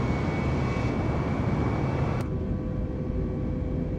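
Airliner taking off in Microsoft Flight Simulator 2020, departing Newark: a steady roaring engine drone with broad rushing noise, loud and continuous, shifting slightly as the sound changes partway through, no talk.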